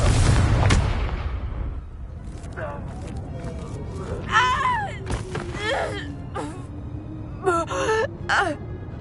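Fiery Confringo spell blast in the Hogwarts Legacy video game, a loud booming explosion at the start that rumbles away, followed by a gasping voice and further speech.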